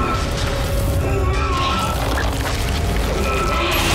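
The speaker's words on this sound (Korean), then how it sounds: "너 거기 있으면 좀 있으면 터진다 그거 뻥" A rumbling explosion from the Dead Space 2 video game, heavy and continuous, with booming low-end crashing and mechanical clatter layered over a steady, loud roar throughout.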